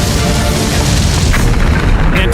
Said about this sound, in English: And to this day, the Kilauea volcano continues to erupt.